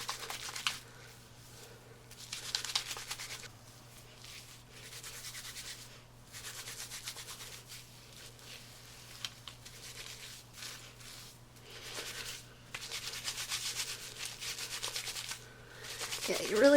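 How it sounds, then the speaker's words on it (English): Sudsy vitamin C treatment is scrubbed into hair to lift semi-permanent colour, a close, soft, wet rubbing that comes in repeated bursts with short pauses between. "you really just want to suds it up, scrub it up, and hopefully get that pigment out of there"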